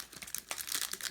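Wrapped pack of 1997 Score baseball cards torn open, with close, busy crinkling and tearing of the wrapper foil across the short moment, no talk.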